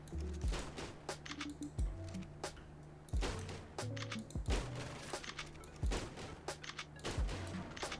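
Video game gunfire in ARK as a player shoots loadout mannequins, a rapid series of sharp, punchy shots in irregular bursts with brief pauses between, fairly quiet overall, no talk.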